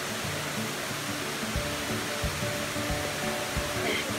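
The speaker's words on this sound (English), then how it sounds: "Coming down to the third fall." Rushing water at the third fall of the Ng Tung Chai waterfalls in Hong Kong, a broad steady roar filling the air with faint low tones beneath.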